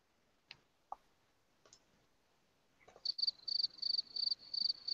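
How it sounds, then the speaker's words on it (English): A few sparse clicks and taps give way to a dense, rhythmic, high cricket chirping that pulses steadily in the second half, added as a sound effect, clear with no talk. "Straight crickets."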